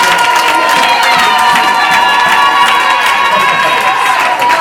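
A church congregation cheers and acclaims God in loud, sustained crowd noise, with shouting and clapping blending into a continuous roar that holds steady throughout.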